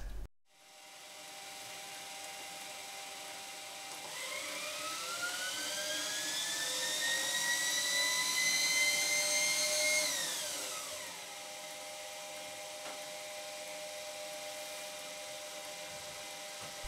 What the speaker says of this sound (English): I had the washing machine motor lying around and I hooked it up.